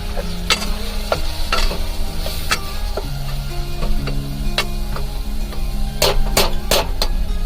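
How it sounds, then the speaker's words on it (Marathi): Onions fry loudly in hot oil with a constant close sizzle, while a spatula stirs them in quick, irregular clacks and scrapes against the pan that bunch together near the end. "आता कांदे टाकले कांदे चांगले फ्राय करून घ्यायचे आपल्याला"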